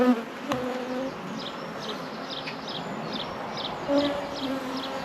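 Honeybees buzzing around an open hive during a beginner's colony inspection: a steady close swarm hum with individual bees whining past near the listener, plus a few faint clicks and knocks.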